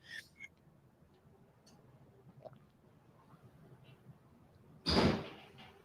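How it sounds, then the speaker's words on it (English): A bedroom door bangs in a strong wind with one loud, close slam near the end. Before it comes a quiet stretch of faint ticks and light knocks. "Doors banging over. Oh, I know, that was my bedroom door."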